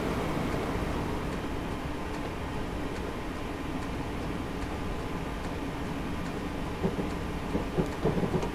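A Class 360 electric train overtakes on the London Liverpool Street to Shenfield line in Train Simulator 2020, a steady, dense rumble of rolling wheels and motors that holds at an even level throughout.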